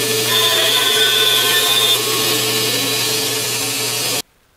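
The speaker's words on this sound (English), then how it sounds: "we're going to have to trim off one end" A bandsaw trims the end off a black palm wood blank, running as a loud, steady whine with a high cutting tone early on, then cutting off abruptly.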